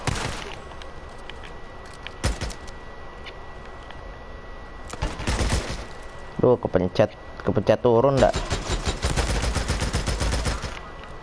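Shotgun fire in the zombie survival game Days Gone: several loud, sharp blasts burst out at irregular intervals, clustering into rapid bursts toward the end, while someone talks casually between and over the shots.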